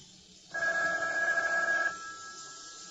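A telephone bell rings once, a steady ring of about a second and a half over constant background hiss in a 1981 drama, with no talking.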